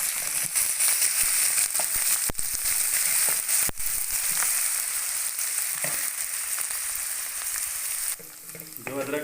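Loud, steady sizzling of ginger garlic paste frying in a pan while cooking daal mash, crackling pops throughout and a brief stir or scrape near the end.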